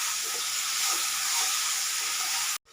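Ginger, garlic, cumin, coriander, tomato paste, cardamom, cloves and cinnamon fry in hot oil for a spicy chicken and potato curry. The close, steady sizzling hiss cuts off abruptly near the end.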